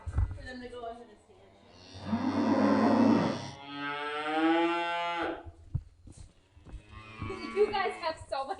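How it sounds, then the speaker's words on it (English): Dairy cows moo on a winter-crowded farm, several long, loud, drawn-out calls close by, with people chatting in the pauses. "You guys have so many dang cows."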